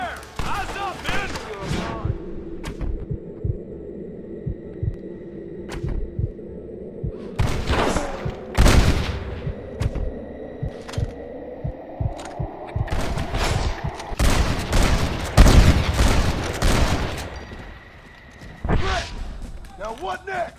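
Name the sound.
gunfire shootout in the video game Red Dead Redemption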